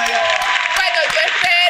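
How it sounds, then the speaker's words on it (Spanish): Studio audience applauding during a Venezuelan talk-show interview, a dense steady wash of clapping lasting under two seconds, with talk mixed in. "Un aplauso para la señora."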